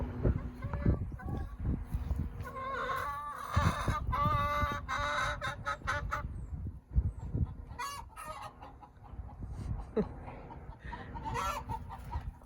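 A backyard hen squawks loudly while laying an egg, giving repeated harsh clucking cries and screeching bursts in irregular clusters, close and prominent against a quiet outdoor background.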